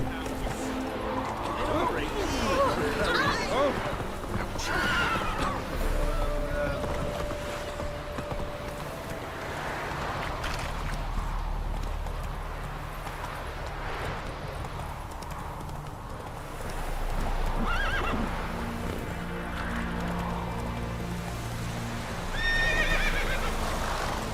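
Roach, the horse in The Witcher 3, galloping with steady clip-clop hoofbeats and several loud neighs and whinnies, while someone talks over the action.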